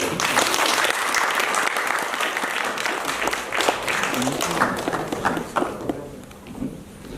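Theatre-festival audience claps in sustained applause at a prize-giving ceremony, dense and even at first, then thinning toward the end.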